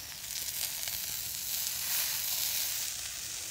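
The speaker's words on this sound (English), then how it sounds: "we're going for the sear first, and then we're gonna finish it off" A steak sears in smoked beef tallow, giving a steady, close, dense sizzle with slight swells in loudness and no voices.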